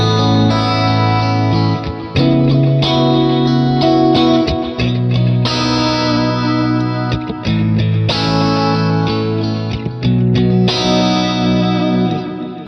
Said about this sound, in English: One thing you'll notice too is the delay and reverb never turns off.